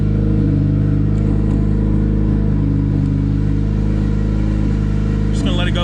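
A turbocharged Honda D16Y8 engine idles steadily up close with a constant low rumble and hum, plus a brief click near the end.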